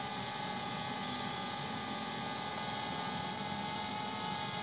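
A DJI Spark drone flying a straight waypoint autopilot route gives off a steady, high propeller whine with a constant tone. It stays fairly faint and unbroken throughout, and no one talks over it.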